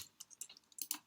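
A computer keyboard typed on in a quick, irregular run of about eight soft key clicks, close and quiet, with no voices.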